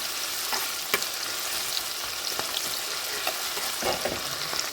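Vegetables frying in plenty of hot oil for mixed vegetable rice make a constant close sizzle with sharp little crackles and pops throughout. Nobody speaks.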